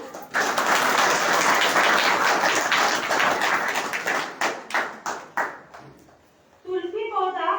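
An audience claps loudly at a gurukul inauguration, dense applause that breaks into scattered individual claps and dies away before a voice begins speaking.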